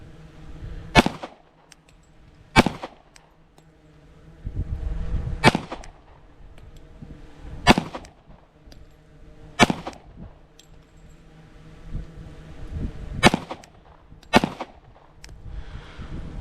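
A Glock 21 Gen 5 pistol in .45 ACP fires single shots, about eight sharp, loud reports at irregular intervals of one to three seconds, each with a short echo, and quieter handling noise between them.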